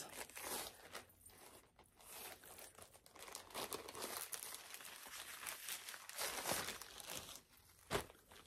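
Packing paper from a Shein shirt crinkles and rustles close up as it is handled, in a continuous run of crisp crackling bursts with a sharper tear near the end and no talking.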